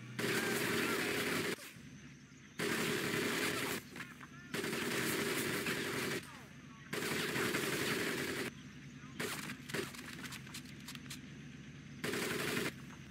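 Bursts of machine-gun fire rattle over a Marine mud-pit crawl, loud and close, coming in long sustained volleys separated by short pauses, with quieter gaps between the salvos.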